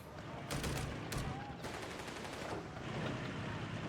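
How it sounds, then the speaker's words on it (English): Rapid bursts of heavy machine gun fire crackle in a Company of Heroes 3 battle, short rattling volleys over a dense, noisy combat background. "Heavy machine guns setting up though"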